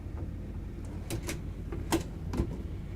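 Soft-close storage drawers in a 2023 Renegade Verona 36VSB RV being opened and closed, giving a few soft sliding rumbles and muted thuds spaced over a few seconds, close by and fairly quiet.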